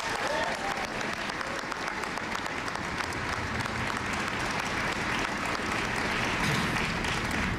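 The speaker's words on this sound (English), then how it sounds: "Give them a big round of applause." A large audience claps and applauds for a group being honored at a public address; thick, even applause sounds throughout, somewhat distant and steady with no break.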